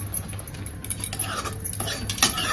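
Eggs with a little turmeric being beaten quickly in a bowl, a steady rapid clatter of utensil against dish, close and fairly faint, with no talking.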